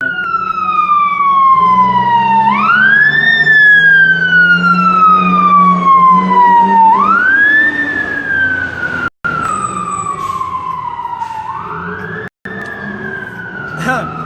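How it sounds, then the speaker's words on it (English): A fire truck siren passing by, wailing up and down in long repeating cycles, loud and close, with rumbling traffic underneath and a couple of brief dropouts. "the fire truck comes by or whatever, and the ambulance"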